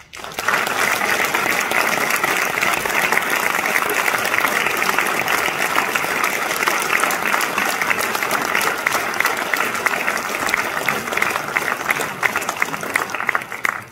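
Audience applause at an award ceremony honouring a Chevalier of the Ordre National du Mérite, a long, steady wash of many hands clapping at an even level, close and full, for over ten seconds.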